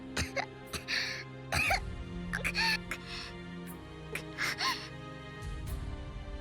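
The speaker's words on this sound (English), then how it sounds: "Natsuhiko fell to his knees, coughing violently." A video game character coughing violently from smoke in Root Double, a series of harsh, close coughs and gasping breaths in irregular bursts over a faint musical background.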